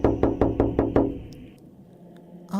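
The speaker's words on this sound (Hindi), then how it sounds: "बल्कि दरवाज़ा और कस कस के पीटने लगा" Six heavy, rapid thuds pound on a hostel room door in a steady rhythm, loud and close, before the banging stops and near silence follows.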